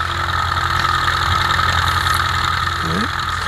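Light aircraft engine of a Cessna 172 running steadily at the end of a grass strip, a loud continuous drone with no pauses and no talk.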